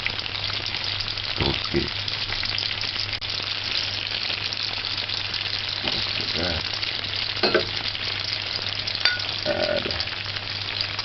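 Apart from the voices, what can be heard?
seasoning frying and caramelizing in a pan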